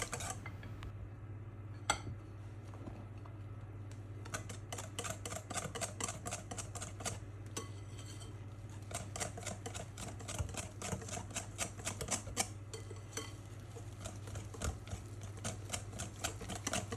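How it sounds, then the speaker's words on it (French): Cake batter is whisked vigorously in a bowl, making a fast, steady run of metallic clicks and rattles, close-up and continuous, with a low hum underneath and no talk. "Et surtout, on continue de fouetter avec énergie."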